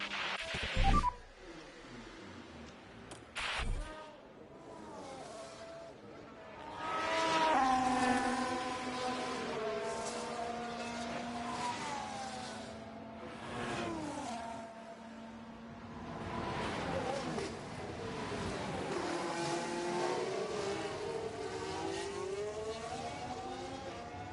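Formula 1 car engines in the video game F1 Manager 24 at Circuit of the Americas, leaving the pit exit near the safety car: engines whine and rise in pitch, several cars revving and passing over a steady drone, loud and continuous, a few sharp clicks early on.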